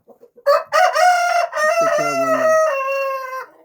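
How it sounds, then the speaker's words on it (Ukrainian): A bearded Faverolles rooster crows loudly up close, one long strained cock-a-doodle-doo with a ringing harmonic tone, preceded by a few soft clucks. "то півень фавероль"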